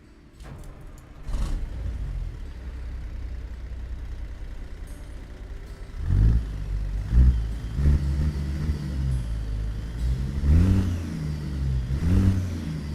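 A Caterpillar 3406E truck engine in American Truck Simulator starts with a brief crank, settles into a low idle, then revs repeatedly, each rise bringing a rumbling surge and rising turbo spool that fades back between pulls.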